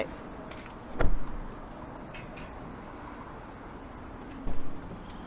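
Car door of an Ora Good Cat thumping shut once near the start as someone climbs in, with a second softer door or body knock later, all close by against a quiet cabin hush.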